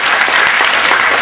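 Audience at a Tamil event clapping steadily, a dense, loud wash of many hands that fills the whole moment without pause.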